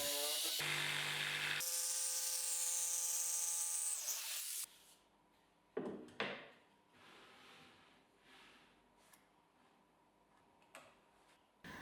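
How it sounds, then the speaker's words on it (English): A loud whining power tool drills and machines grooves in wood for a jointer-planer fence, runs for several seconds, then stops, followed by quieter tapping, clicks and handling of wood. "After gluing the printable template on, I drill and machine these grooves."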